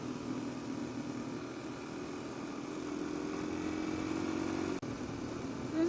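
A Yamaha XT motorcycle engine drones steadily while riding, a constant mid-pitched hum heard from on the bike with no talking.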